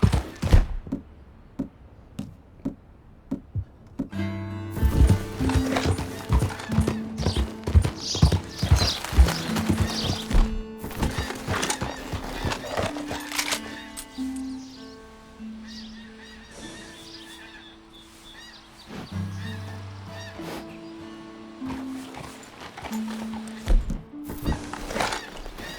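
A horse in Red Dead Redemption 2 gallops with rapid, loud hoof clip-clops, then neighs and snorts, the hoofbeats slowing and picking up again over a game soundscape.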